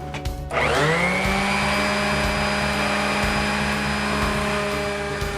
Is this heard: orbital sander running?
yes